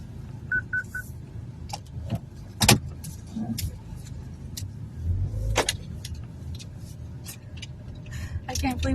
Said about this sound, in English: I can't believe we're driving down our road in our own car.